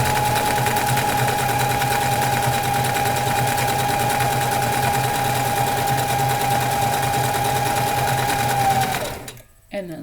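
A sewing machine stitches fabric in a fast, steady mechanical chatter for about nine seconds, close and loud, then stops abruptly.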